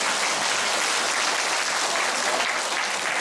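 Loud, dense audience applause fills a church renewal-group lecture hall for a few seconds, steady and unbroken with no voices over it.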